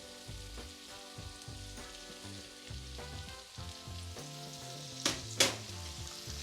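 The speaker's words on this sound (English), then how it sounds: "Now we're going to go in with our sliced onion and our red and green peppers." Sliced onion and red and green peppers sizzling in a hot pan after spices, a steady frying hiss with soft stirring scrapes and two sharp crackling spits near the end.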